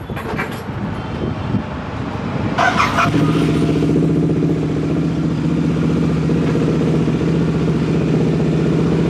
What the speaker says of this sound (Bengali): ইন্টারসেপ্টার 650 22-এর গাড়ি। বাহ, এর লাইট কিন্তু দারুণ। এর আওয়াজ শোনা না, তো বহুত ভয় লাগে আমাকে এই আওয়াজটা